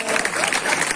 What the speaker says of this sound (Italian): facciamo un applauso a Francesco perché